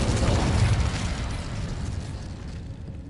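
Fiery whoosh and roar of the Incendio fire spell being cast in Hogwarts Legacy, a loud broadband burst that swells at the start and then trails off into a crackling, fading rush.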